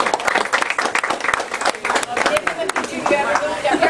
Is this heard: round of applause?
yes